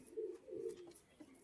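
Pigeons of a red-faced fancy breed cooing nearby, a soft low throaty coo repeated in short pulses, fairly quiet and alone.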